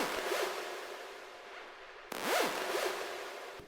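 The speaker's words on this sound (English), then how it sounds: "This is the Synth Shot" Synth shot effect for a techno drop: broad noisy swooshes with a sharp cut near the middle, then a bright rising-and-falling pitched sweep over hissing noise, loud and alone.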